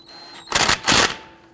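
Brake caliper bolts being snugged down on a Dodge Charger, two short, loud metallic ratchet bursts with a brief pause between them and quiet between.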